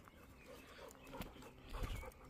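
A dog whimpering excitedly during a walk, giving soft, close whines and yips over faint outdoor background noise, with no voices.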